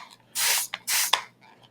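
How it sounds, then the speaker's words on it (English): An aerosol spray can hisses in two strong, close bursts of about a third of a second each over a repaired comic book cover, with a small click between them and quiet room noise around them. "we're going to go ahead and spray this."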